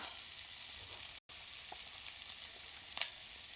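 Salted vegetables fry in a pan with a faint, steady hiss, with a few light clicks and a brief dropout partway through.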